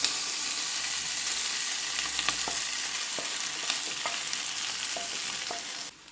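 An egg and pappadam dish sizzles steadily in a hot pan as it is moved to another pan, with a continuous close frying hiss and scattered light scraping clicks from stirring, fading out at the very end.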